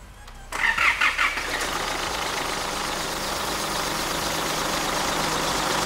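A car engine cranks close by with a few rapid starter pulses, catches, and settles into a steady, even idle that holds to the end, with no voices.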